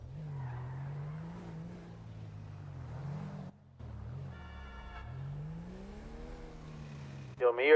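A car passes along a Jamaican street under steady outdoor chatter, its engine hum swelling and fading as it goes by, with a sharp higher whine rising at the very end.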